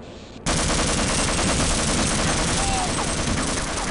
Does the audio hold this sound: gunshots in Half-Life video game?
yes